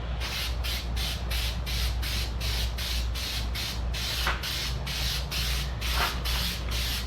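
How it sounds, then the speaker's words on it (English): An aerosol coating sprays onto a car headlight lens in a steady, close hiss broken by regular short pulses as the can sweeps back and forth over about seven seconds. "you just want to keep moving fast, overlapping where you're spraying"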